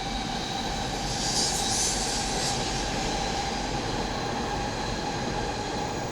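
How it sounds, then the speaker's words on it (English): A train rumbles along an elevated railway in Japan, a steady loud roar with faint wheel squeal, heard close and continuous with no talk. "now you can hear the loud as normal train underneath it"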